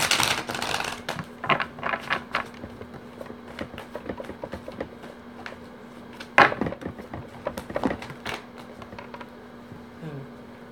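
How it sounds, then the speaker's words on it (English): Rapid papery riffles and soft flicks of cards being shuffled, in a dense burst at first, then sparser taps and snaps, close by with no talking. "Shuffle, shuffle, shuffle."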